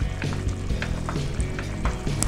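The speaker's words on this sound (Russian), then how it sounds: "Хорошо перемешиваем." Chicken curry with sour cream is stirred in a hot pan, giving a steady close sizzle with soft scraping stir sounds and faint taps. No one speaks.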